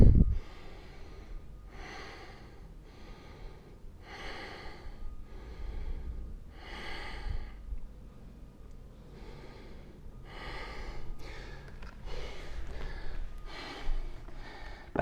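Deep, audible breaths taken repeatedly in a held yogi squat during a power yoga flow, slow rhythmic inhales and exhales close to the mic with no talking.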